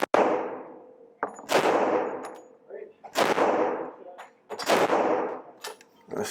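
Glock pistol shots fired one at a time at a target 20 yards away on a range, four sharp, loud cracks spaced about a second and a half apart, each with a short ringing decay.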